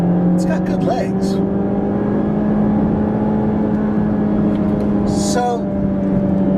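A 2014 Mazda3 with 155 horsepower accelerates hard from a standstill, its engine drone rising steadily and heard from inside the cabin with a gear change near the end, while a driver talks over it.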